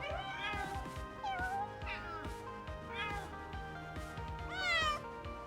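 Repeated meows from a cat character in Powerwash Simulator 2's Adventure Time DLC, about five insistent cries spaced at a steady pace, the last one loudest, with a constant game soundscape underneath.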